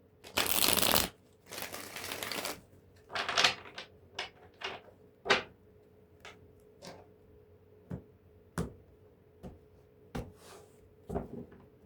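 Tarot cards are shuffled in two brisk riffles, followed by a series of soft, separate taps and flicks as cards are laid down, quiet and close.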